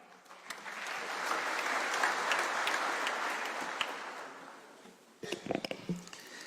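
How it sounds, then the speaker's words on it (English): Audience applause welcoming a speaker at a university event, a broad, steady wash of clapping that swells and fades, followed by a few scattered claps and noises. "let's welcome him with a clap."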